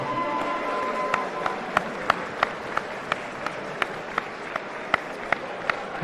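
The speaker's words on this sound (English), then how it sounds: "how's about a round of applause for both boxers?" A modest crowd at a live boxing show in Farnworth applauds both boxers, scattered distinct claps standing out over a murmuring arena background, fairly light and thin rather than a full ovation.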